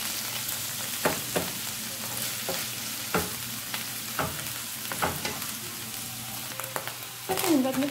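Canned button mushrooms and onion sizzle steadily in a hot pan, with a utensil stirring and scraping at intervals for a mushroom sauce; a louder stir near the end, with no talking.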